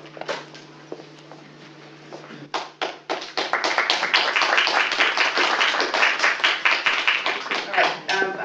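A room bursts into applause after a quiet moment, the clapping building quickly into dense, sustained rapid claps from many people.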